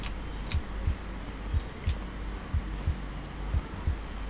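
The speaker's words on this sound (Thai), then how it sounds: "ทำไมหัวใจเต้นแรง" Steady double-thump heartbeat inside a first-person horror video game, paced about once per second under a low background hum, with occasional faint ticks above.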